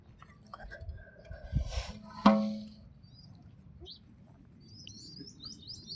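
Pigeon chicks held in the hand give faint, high chirps at intervals, mixed with soft rustling and a sudden close thump from handling.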